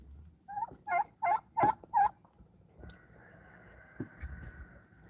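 Four quick, loud gobbling bursts from a nearby turkey, evenly spaced, followed by quieter background clucking and a faint steady hum.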